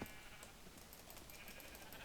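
A sheep in Minecraft bleats faintly a few times over a quiet background hiss, with no voices.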